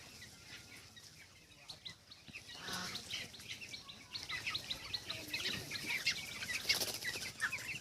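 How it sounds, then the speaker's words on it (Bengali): A crowded poultry farm house holding about 3,300 broiler chickens gives off a steady, dense chorus of clucks and high chirps that swells slightly louder toward the end, with no talking. "মাত্র 3300 মুরগি এই ফার্মে"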